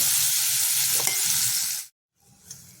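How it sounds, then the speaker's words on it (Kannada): A ground sour-greens paste hits hot oil with popped mustard seeds in a pan and is stirred, giving a dense, close sizzle with scraping strokes that stops abruptly, then returns faintly after a short silence. "ಅದಕ್ಕೆ ನಾವು ರುಬ್ಬಿಟ್ಕೊಂಡಿರೋ ಇದನ್ನು ಹಾಕೋಣ ಇದು ಹಸಿ ವಾಸನೆ ಹೋಗೋವರೆಗೂ ಹುರ್ಕೋಬೇಕಾಗತ್ತೆ"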